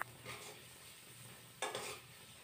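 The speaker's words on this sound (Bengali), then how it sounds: "তারপর নুন হলুদ দিয়ে পেঁয়াজটাকে ভেজে নেব।" Onions frying with salt and turmeric in a pan while a Bengali rui fish curry with cauliflower and potato is cooked: a soft steady sizzle with a scrape of stirring at the start and a louder stir near the end, close by.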